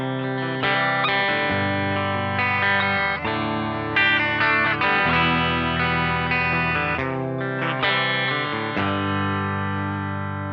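Clean electric guitar chords from a PRS SE DGT on the bridge pickup ring out and sustain, with a slight shimmering chorus effect, changing every few seconds.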